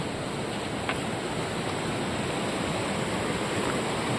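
A flowing mountain stream rushes steadily beside a walking path, a constant broadband wash of water that stays even and close without pause.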